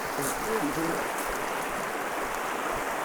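Small mountain stream flowing below a hillside trail, a steady soft wash of running water heard without break and moderately quiet.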